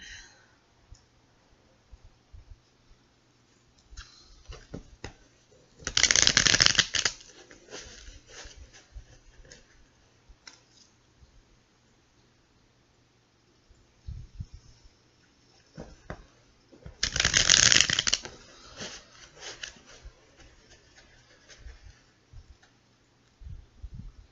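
Two bursts of rapid riffling tarot card shuffles stand out against quiet scattered taps and clicks, close by, with no speech.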